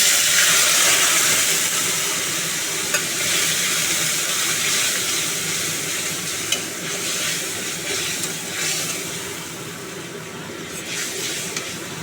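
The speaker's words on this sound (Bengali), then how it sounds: "এবার এর মধ্যে অল্প একটু জল দিয়ে মশলাটাকে কষাবো" Mustard-paste spice mix with turmeric and chili powder fries in a pan with a splash of water, producing a loud, continuous hissing sizzle with steam that holds steady throughout, with no talking.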